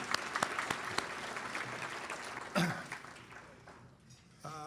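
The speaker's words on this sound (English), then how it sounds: "Let's have another round of applause for these two great teachers." Applause from an audience for two teachers at the 2019 Sacramento County Teachers of the Year event. A few sharp claps open it before the clapping thins and fades, and a voice comes in at the end.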